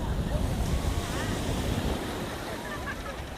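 Ocean surf at Kovalam Beach near Chennai, where boats are moored along the shore: a steady, loud wash of breaking waves with wind buffeting the microphone, continuous for the whole stretch, with no speech.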